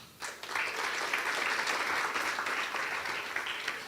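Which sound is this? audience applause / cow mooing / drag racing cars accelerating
audience applause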